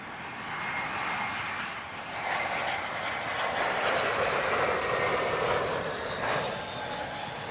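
A British Airways Airbus A319-100 arriving at Heathrow from Stuttgart produces a steady, moderately distant jet roar with a broad hiss that swells slightly midway and holds throughout.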